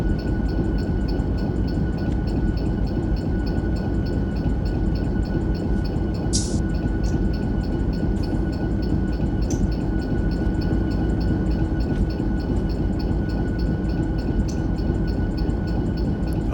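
A freight train with an air hose hooked up for a partial brake application gives a steady, loud broadband rumble and hiss that holds evenly throughout, with one brief sharper burst partway through.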